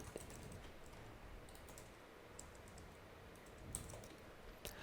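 Steady, quiet rattle of computer keyboard keys as code is typed, a continuous run of light clicks with no one talking.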